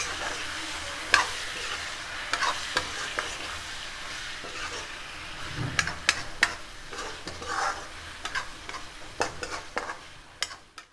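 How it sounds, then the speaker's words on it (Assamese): Duck meat with salt, turmeric and cumin powder frying in a pan, a soft steady sizzle punctuated by scattered scrapes and clinks as the pieces are stirred. "এইখিনি দি মই 10 মিনিট ৰঙচুৱা হোৱালৈকে ভাজিম"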